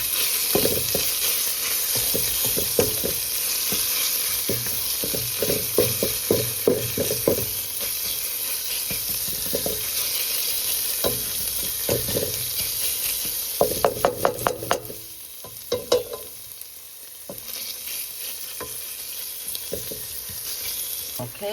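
Seasoned food with pink Himalayan salt being stirred in a frying pan: steady sizzling with repeated scraping and clanking stirs, close and alone.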